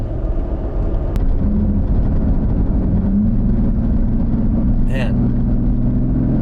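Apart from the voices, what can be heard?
car engine with K&N NextGen cold air intake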